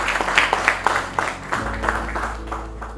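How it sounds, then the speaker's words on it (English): An audience at a Kano health policy dialogue gives a round of applause, a steady patter of many hands clapping at moderate distance, fading after a few seconds as a low hum sets in. "This definitely deserves a round of applause."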